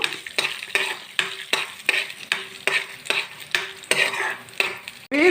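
Chana dal frying in oil in a home village kitchen, a spoon stirring in quick, regular scrapes roughly every half second over a bright, steady sizzle, close and fairly loud.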